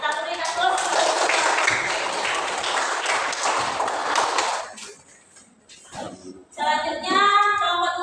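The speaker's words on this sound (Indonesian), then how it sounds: "Ya, kita beri aplaus." A classroom group claps for group 1 after their presentation, several seconds of brisk, close hand clapping that stops abruptly, followed by a person speaking.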